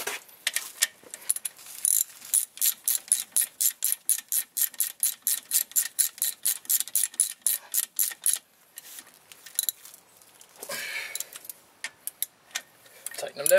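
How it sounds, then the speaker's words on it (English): A 3/8 ratchet tightens brake caliper slider bolts on a 1999 GMC Sierra C1500 2WD. It gives a long run of fast, evenly spaced clicks from close by, then a pause and a few scattered clicks and handling sounds. "3/8 ratchet."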